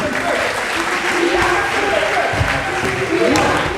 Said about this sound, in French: Plus d'applaudissements, plus d'applaudissements.